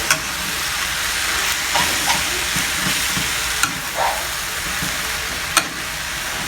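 Glass noodle filling for vegetable spring rolls is stir-fried in a pan, a loud continuous sizzle broken by rhythmic spatula scrapes and a few sharp clinks against the metal.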